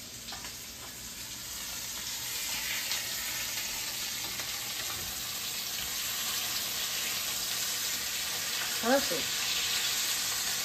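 Pork loin chops sizzle in a frying pan, a steady close hiss and crackle running throughout, with a short word spoken near the end.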